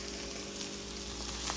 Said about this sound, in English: so I'm just stir frying it now because it was frozen.